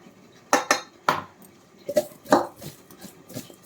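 A spoon scraping and clinking against a pan while mixing salt into boiled amla for a long-keeping gooseberry pickle, several sharp close knocks in an irregular rhythm with quiet gaps.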